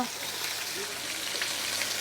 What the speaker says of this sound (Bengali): মাছটা ভাই দেখেন ভাজাটা দেখেন